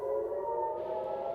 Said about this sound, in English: sirens sounded in Haifa in Israel as they attempted to intercept Iranian missile